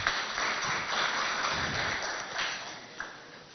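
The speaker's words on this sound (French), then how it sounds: "On applaudit très fort pour eux" A school audience in Abéché, Chad claps for student dancers in a continuous wash of applause that fades slightly near the end, with a few sharper individual claps standing out.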